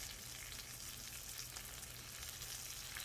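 Salmon seasoned with paprika and lemon pepper sizzles over high heat on a Monument Grills Mesa-400 grill. It gives a continuous, even crackling hiss with no talk over it.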